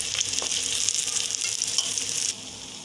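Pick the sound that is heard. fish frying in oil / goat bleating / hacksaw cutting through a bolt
fish frying in oil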